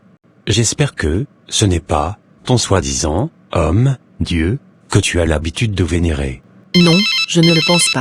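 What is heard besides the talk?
mobile phone ringtone ringing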